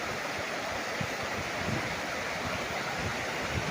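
A river runs beside a farm lot in Liliw, Laguna, its steady broadband rush of flowing water constant and fairly close, with no voices over it.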